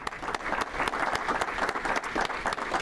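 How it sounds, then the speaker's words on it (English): Rotary Club members give a hearty round of applause for armed service veterans, close and dense clapping that stays strong and even throughout. "Let's have a nice round of applause for these people."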